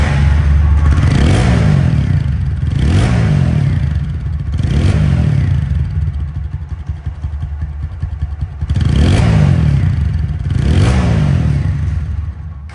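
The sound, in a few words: second-hand motorcycle engine running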